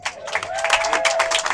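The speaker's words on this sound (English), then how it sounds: "a huge round of applause to you for this award" An awards ceremony audience in Palm Springs applauds and cheers, a dense, loud wash of clapping with crowd noise and a sustained tone running through it.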